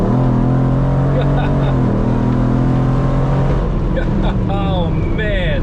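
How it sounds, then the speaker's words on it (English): A Jeep Wrangler with a swapped-in 6.4 Hemi engine revs and pulls away in a loud, steady drone that rises in pitch, with no talk over it. "Let's give it a little bit of gas."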